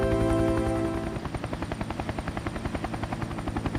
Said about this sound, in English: Look! A helicopter!